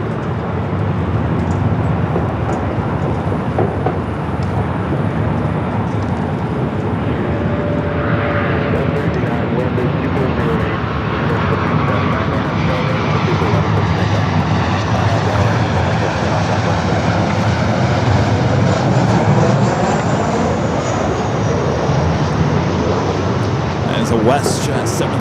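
A Lufthansa 'Queen' airliner passes over Lincoln and Sepulveda near LAX, its engines a loud, steady roar that fills the whole stretch without easing off.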